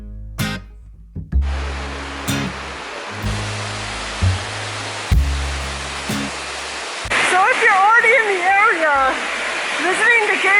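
An indoor waterfall inside the Gaylord convention center in Nashville pours in a steady broadband rush, with low tonal thumps and a voice speaking over it toward the end.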